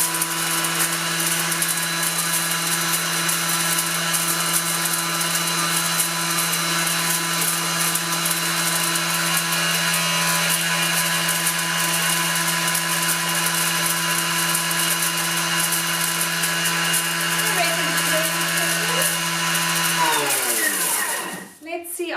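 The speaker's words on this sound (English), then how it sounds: "So I'm going to give it another 10 to 20 seconds. And it was speed 10." A blender runs steadily at speed 10, churning biltong pâté with a loud, constant motor whine and whirring blades for about twenty seconds, then quickly spins down and stops at the end.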